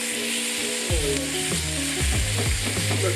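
Sausages frying in a dry pan with no added oil sizzle loudly and steadily up close, with scraping stirs and a few knocks from a utensil against the pan partway through, and no voices.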